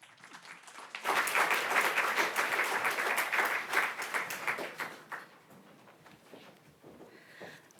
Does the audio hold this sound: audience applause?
yes